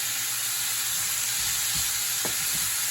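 Sliced onions caramelize in a pan, a steady loud hissing sizzle filling the whole stretch, with a couple of faint low knocks from stirring near the end and no voices.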